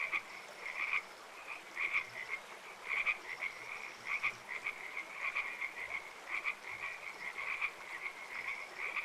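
Frogs croak in the video game Life(Forms) in repeated rhythmic bursts of fairly quiet, raspy calls over a soft ambient background, with no voices.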